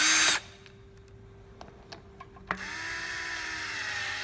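A power screwdriver whirs briefly at the start, then drives again in a sustained run near the end while screws go into the side plate of a geared motor, with small clicks and taps in the quieter gap between.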